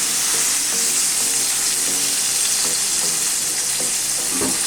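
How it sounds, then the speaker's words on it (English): Lemon chicken deep frying in hot oil gives a loud, dense, continuous sizzle and crackle with small popping bursts throughout, close up and with no voices. "now the second deep fry is done"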